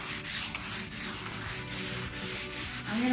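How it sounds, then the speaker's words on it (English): Steady, continuous sanding of a black marble resin countertop with 220-grit, a gritty rubbing hiss with a faint back-and-forth rhythm, close by and uninterrupted by speech. "So while he's sanding"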